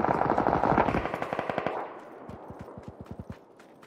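Rapid automatic gunfire in the video game PUBG, a dense loud burst at first, then spaced, fading shots with echo, no talk.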